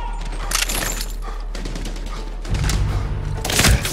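Enemy gunfire in Medal of Honor, scattered sharp shots and cracking impacts spread across a busy battle scene, with a heavier thumping burst near the end, moderately loud with no talk over it.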